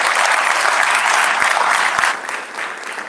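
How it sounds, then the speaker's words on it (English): Audience at a health and wellness champion awards ceremony giving honorees a round of applause, a loud, dense, continuous roar of many hands that thins and softens near the end. "Y'all give them a round of applause."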